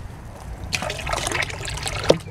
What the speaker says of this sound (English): So we're getting some water to flow.